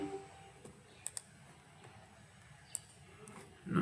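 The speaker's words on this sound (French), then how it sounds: "Je vais cliquer sur OK." A computer mouse clicks faintly while software is in use: two quick clicks close together, then a single click a moment later, over a quiet room hum.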